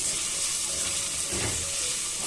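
Coriander powder being stirred into a coconut fish curry in a pan, Kerala village style, with a steady close sizzle and soft scraping throughout, no voices.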